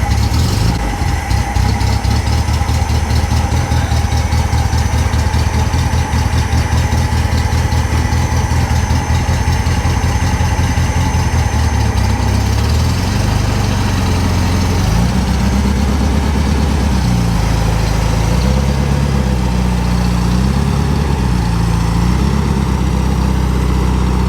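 A Volkswagen engine on its first start, throttle worked by a string, runs loud and steady for about twenty seconds, a close, throbbing idle with slight rises and falls in pitch as the throttle is nudged.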